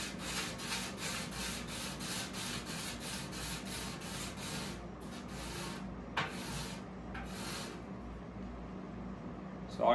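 A three-blade broadhead is honed back and forth on a 400 grit sharpening stone, giving a steady, close scraping rub in rapid repeated strokes for most of the clip, easing into looser strokes near the end.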